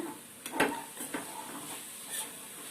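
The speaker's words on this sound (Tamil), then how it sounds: "அடி பிடிக்காம கிண்டிக்கங்க" A spoon stirs sweet filling for wheat poli in a pan, with soft scraping strokes and light sizzling, a few distinct clinks of utensil against pan, quiet and close with no talk.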